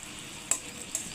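A pan of drumstick curry simmers with a soft, steady bubbling hiss, broken by two small pops close by.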